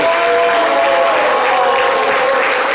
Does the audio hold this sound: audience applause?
yes